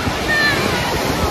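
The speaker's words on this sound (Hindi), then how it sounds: "यहाँ पे हवा भी बहुत तेज़ है और सी भी थोड़ा वाइल्ड हो रहा है" Strong wind and rough sea waves at a Mumbai beach make a brief, loud, continuous roar of broadband rushing noise.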